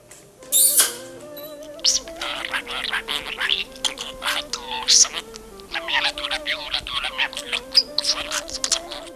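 A budgerigar chatters in a rapid, warbling stream of squeaky, voice-like syllables, close and continuous with brief pauses, mimicking speech as it recites a Quranic prayer.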